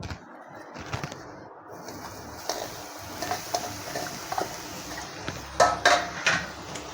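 Ground fresh green coconut stirred into caramel in a pan for coconut ladoo, heard as scattered light scrapes and clinks of a spoon against the pan, growing busier and a little louder near the end.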